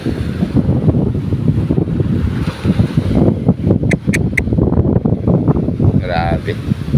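Strong northeast monsoon wind gusting over rough sea waves, a loud continuous roar of wind buffeting the microphone with surf beneath, plus a few brief high tones near the end.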